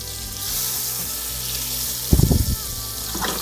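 Pork chops laid into a pan of melted butter with browned garlic and blanched onion, giving a sudden loud burst of sizzling that settles into steady frying, with a faint clatter near the end.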